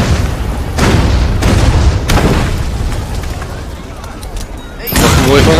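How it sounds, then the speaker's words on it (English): Explosions go off in Assassin's Creed Syndicate: several loud booming bursts in quick succession, then a final heavy blast, mixed with game sounds and voices. "Wait for an explosion."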